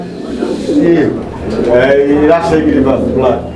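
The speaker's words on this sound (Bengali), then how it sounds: "এই যে দর্শক দেখেন একদম রানিং একটা কবুতরের জোড়া" Rajshahi Black Giribaz pigeons, a breeding pair, cooing up close in soft, throaty warbling phrases, repeated several times in a row, with a person talking nearby.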